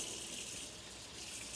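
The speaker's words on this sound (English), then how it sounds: "I'm rinsing off my meat" Meat is rinsed under a running kitchen tap, a steady close gush of water with no talking.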